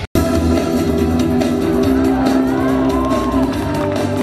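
Spectators at an outdoor air show in Mochishche near Novosibirsk shout and cheer loudly in a sustained roar, with whoops rising over the crowd noise.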